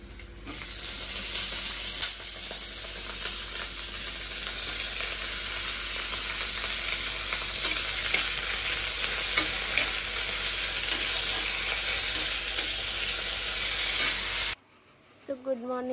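Onions and potatoes fry in a pan with a steady, loud sizzle and occasional stirring scrapes, crackling continuously until the sound cuts off abruptly near the end.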